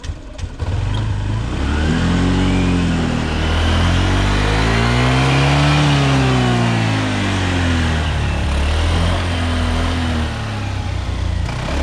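A Honda PCX scooter engine that had been affected by water, revved with light throttle, rising and falling in smooth pitch sweeps that peak mid-clip and settle back, loud and close with no voices.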